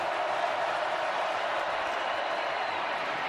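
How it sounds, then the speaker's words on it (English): A football stadium crowd roars steadily during Missouri's game at Georgia, a dense, unbroken wash of cheering that holds at a constant level from start to finish with no voices standing out. "Crowd is up again."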